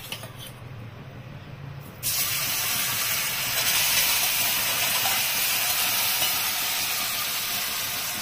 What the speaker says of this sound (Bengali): পনিরটা একটু ভালোই ফ্রাই করব